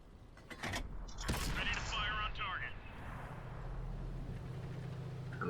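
A tank cannon shot booms in World of Tanks, a sharp blast around an M41 Walker Bulldog firing at an enemy turret, followed by mechanical clanks and a steady low engine rumble.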